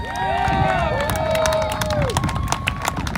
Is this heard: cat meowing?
no